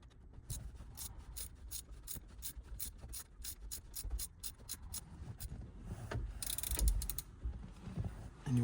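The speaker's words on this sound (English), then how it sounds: "Ratchet doesn't fit, so we'll use a ratcheting wrench instead." A ratcheting wrench tightens the bolt on a custom shifter for an OBS Ford truck, making a long run of quick, even metallic clicks up close, with some rubbing and handling noise near the end.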